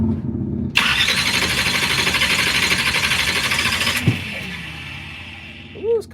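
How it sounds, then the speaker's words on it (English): A Pro Mod drag race car's cold engine cranks loudly on its starter at the track, a sudden harsh churning that runs about three seconds, then cuts out and leaves quieter background noise. "Let's see if we can get this crank."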